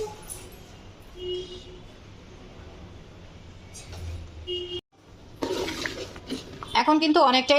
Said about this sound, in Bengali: এই পর্যায়ে কিন্তু আপনার খুব ভালো করে নাড়াচাড়া করতে হবে না হলে নিচে লেগে যাওয়ার সম্ভাবনাটা বেশি